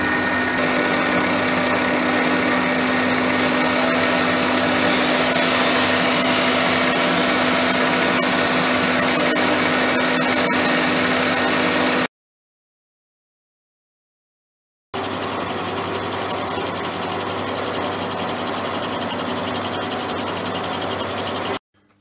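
Loud, steady mechanical whirring and grinding of a Schaublin SV52 milling machine's power feed, running continuously, cutting out briefly, then resuming just as noisily.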